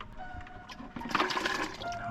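Creek water pours into a bucket with a steady, close gurgling splash that grows louder and fuller partway through as it fills.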